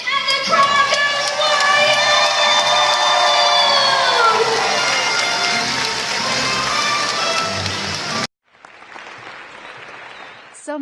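A large crowd at a high school cheers wildly, with loud, sustained applause, shouts and children's screams filling the air for about eight seconds before cutting off abruptly to quieter background noise.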